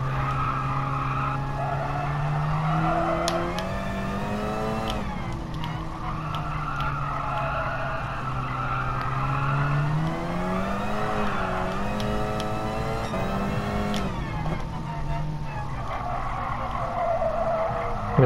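A race car in a racing simulator game understeers, its tires squealing and skidding continuously over a steady high-revving engine drone, loud and close throughout with shifting pitch through the corners.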